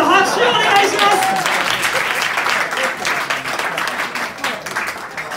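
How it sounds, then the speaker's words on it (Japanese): Audience applause at a one-man class reunion event in a Shinsaibashi bar, Osaka: steady, dense clapping from a small crowd, fairly close and loud throughout, with a faint voice and whistle-like tones near the start. "拍手をお願いします。"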